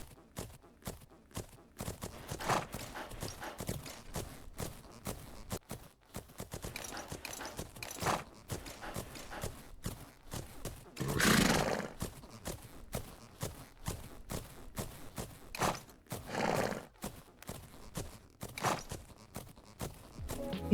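Horse hoofbeats in the video game Fernhoof Grove, rhythmic clip-clop strides at a walking pace, close and clear, with occasional louder bursts that may be a whinny.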